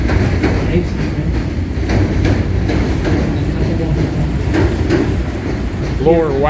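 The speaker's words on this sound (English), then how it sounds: "There's the L, the elevated train." Elevated L train in Chicago passing overhead with a steady rumble and clatter of rail cars, heard from the river, with someone talking over it throughout.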